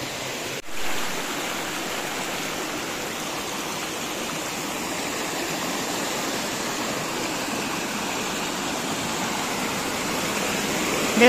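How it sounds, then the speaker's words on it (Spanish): Water rushes steadily down a stream near a natural rock waterslide, a dense, even, continuous roar that is close and fairly loud, with no talking. "Miren nada más cómo hay de agua"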